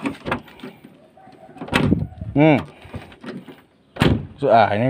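Rear door of a 1997 Toyota Kijang SX being shut, with a couple of solid thuds amid someone talking nearby.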